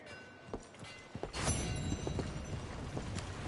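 A horse's hooves clip-clop at a trot in the Red Dead Redemption II video game, a quiet run of irregular thuds and scuffs that becomes steadier and slightly louder partway through.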